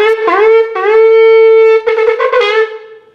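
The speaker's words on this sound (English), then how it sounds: "he's more likely going to be sounding this shofar." A shofar, the ram's horn used for a coronation call, blasts in a few bright, brassy horn tones: a short note, a long sustained one, then a wavering broken series, loud and close with no voices.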